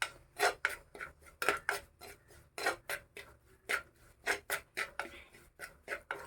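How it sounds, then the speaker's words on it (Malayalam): Chili powder being stirred into hot oil in a pan, a metal spoon scraping the pan in quick rhythmic strokes, close and fairly loud with no talk. "നമുക്കിനി അതിലേക്ക് നമ്മുടെ മുളക് പൊടി ഇട്ട് കൊടുക്കാം. ഇളക്കി കൊടുക്കാം."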